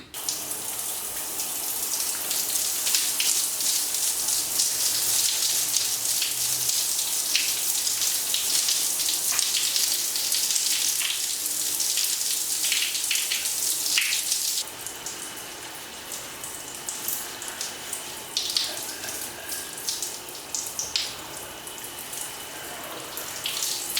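Running tap water pours steadily while hair is rinsed on a washday, a constant close hiss that drops slightly in level midway and continues without talk.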